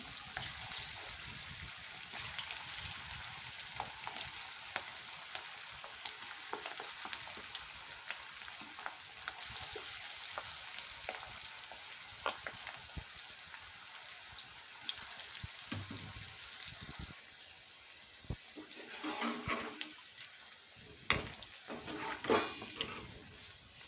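Jackfruit pakoda balls frying in hot oil, a steady close crackling sizzle with occasional louder pops and bubbling bursts as pieces are dropped in and cook.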